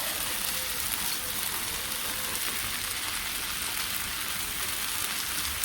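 Fried fish go into a pan of onions and vegetables that have been frying in mustard oil, giving a steady dense sizzle that stays loud and even throughout, with no talking.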